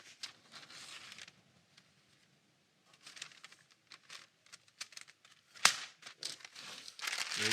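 Wax paper being handled and crinkled during a DIY book project, close, intermittent rustling and crackling bursts separated by quiet pauses, with a sharper crinkle near the end.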